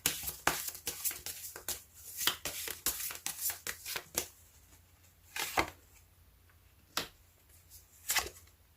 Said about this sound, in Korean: 주별로 자세한 조언의 메시지 카드 뽑아보도록 하겠습니다